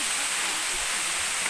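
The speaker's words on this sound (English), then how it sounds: "The Kawa-Kawa Falls is arriving now. And you will hear the sound of the nature." Kawa-Kawa Falls pours down in a dense, steady hiss of rushing water, heard briefly and at a constant level with nothing else standing out.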